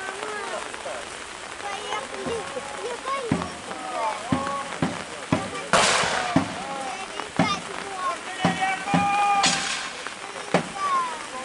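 Cannon and musket fire at a historical battle reenactment of the 1812 defence of Dinaburg fortress, heard as scattered sharp bangs and cracks from a distance under steady background noise.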